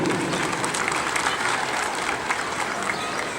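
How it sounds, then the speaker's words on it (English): Steady applause from a residents' crowd at an apartment complex Independence Day celebration, dense continuous clapping that holds at an even loudness for several seconds with voices faintly mixed in. "Please clap for them."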